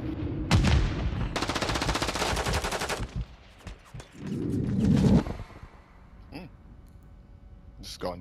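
Automatic gunfire in a Call of Duty ranked match, a rapid stuttering burst of shots with single loud cracks before and after, close and loud, while players' voices talk over parts of the action.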